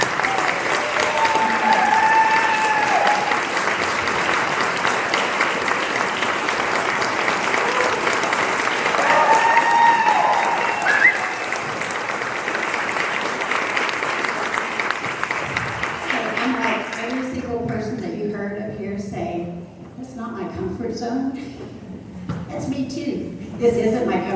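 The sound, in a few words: big round of applause from audience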